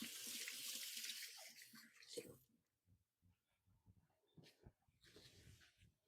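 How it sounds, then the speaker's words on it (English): Water runs from a kitchen sink tap during handwashing, a steady gush at first, then small splashes and drips after it stops, with a brief return of flow near the end; quiet and close. "let me wash my hands real quick"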